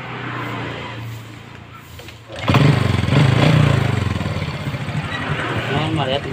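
A Honda Kirana motorcycle with an ignition fault after repeated starter coil replacements is kicked into life partway through and settles into a steady, close idle after a quieter lead-in.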